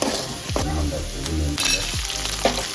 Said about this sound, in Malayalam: വെളുത്തുള്ളി ഇട്ട് മൂപ്പിക്കുക, ബ്രൗൺ കളറാക്കുക.